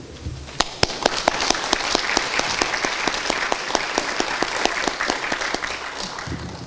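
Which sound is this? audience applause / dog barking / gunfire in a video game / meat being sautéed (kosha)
audience applause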